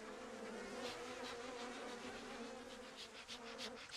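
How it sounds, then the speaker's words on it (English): A desert worker bee with a long proboscis buzzing steadily and close, a continuous droning hum with slight wavering in pitch, quiet overall and with no talk. "It's a worker. The difference with other bees is its long proboscis."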